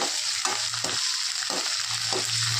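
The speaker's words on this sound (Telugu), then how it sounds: "ఈ పచ్చిమిర్చి కూడా బాగా వేగిపోవాలి" Green chillies sizzle in hot oil in a pan, a close, steady hiss broken by rhythmic stirring strokes about every half second, with no one talking.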